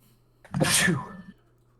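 A single sharp sneeze bursts out at a tabletop role-playing game session, preceded by a brief inhale, loud and close against a quiet background hum.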